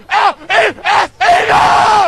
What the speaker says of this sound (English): That's the Eagles cheer going on in the parking lot